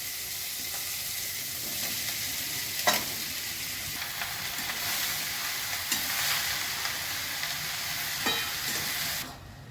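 Chopped bottle gourd and green chilies sizzle and hiss in a pan for a shrimp curry, with steady frying broken by occasional scrapes of stirring, close and continuous with no talk.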